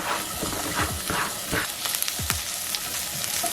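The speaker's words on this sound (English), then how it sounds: "In this skillet, I'm gonna saute some onions, just a few." Onions sautéing in a skillet give a soft, steady sizzle with scattered pops and crackles, close and moderately loud, with brief utensil movements.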